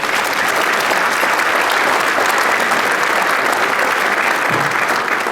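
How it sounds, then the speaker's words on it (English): Dinner-event audience at a business awards and hall of fame night applauds a sponsor, dense sustained clapping filling the room loudly and evenly throughout with no break. "Let's give them a round of applause."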